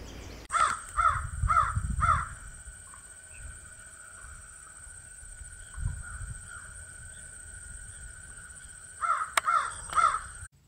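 A crow caws from up in a tree outdoors, in two bursts of three or four harsh calls near the start and end, with steady insect or cricket hum and soft wind rumble between.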